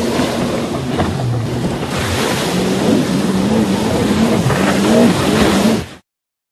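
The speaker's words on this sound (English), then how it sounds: "Motorboat." A motorboat engine drones steadily over rushing water and wind noise, with a low hum that rises and falls slightly, fairly loud and close.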